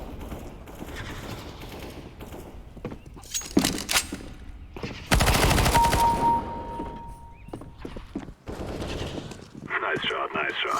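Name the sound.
gunfire in an online shooter video game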